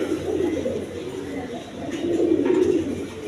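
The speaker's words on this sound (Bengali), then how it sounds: "গোপালগঞ্জের বড় পায়রা" Large Gopalganj pigeons coo in low, rolling murmurs close by, with overlapping calls rising and falling and some faint talk in the background.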